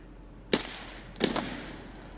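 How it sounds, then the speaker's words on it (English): Two loud, sharp gunshots in Escape from Tarkov, fired about a second apart, each leaving a short ringing echo against a quiet background. "It was somebody shooting at me"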